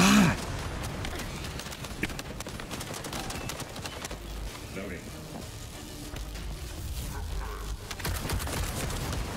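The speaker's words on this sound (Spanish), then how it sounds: "Creo que son como 3 o 4 disparos seguidos." Rapid bursts of gunfire crackle through a boss fight against Narzas the Consuming Flame in The First Descendant, with sharp repeated shots scattered throughout and a voice talking over them.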